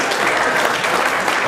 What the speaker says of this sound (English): A round of applause for the mustache.